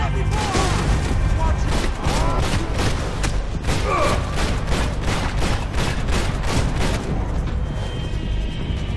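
Rapid enemy gunfire in Max Payne 3 crackles through a dense, continuous burst of repeated shots with heavy low rumble, loud and sustained with no gaps.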